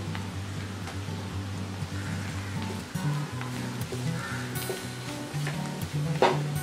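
Ginger, garlic and chilli crush sizzles in hot oil with softened onions in a pan for Mumbai black pav bhaji, a steady close frying hiss with occasional stirring scrapes and a low background hum throughout.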